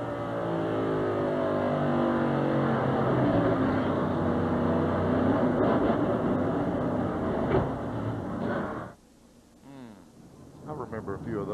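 Onboard audio from a NASCAR stock car racing in the 1993 Miller Genuine Draft 400: a loud, steady engine drone at high revs that holds for several seconds before abruptly dropping off, then partly returns.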